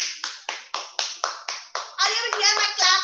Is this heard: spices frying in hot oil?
no